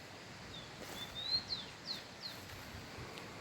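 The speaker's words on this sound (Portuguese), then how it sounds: "Porque aqui na nossa região tinha muito Tico-Tico. Olha só ele cantando." A rufous-collared sparrow (tico-tico) gives a few faint, thin whistled notes over soft outdoor background noise on a morning in the countryside.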